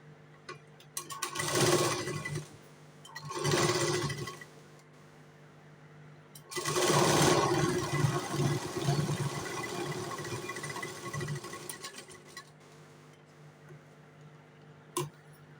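A sewing machine stitches a blouse in short bursts: two brief runs, then a longer continuous whirring run of about five seconds, separated by quiet pauses and ending with a single sharp click.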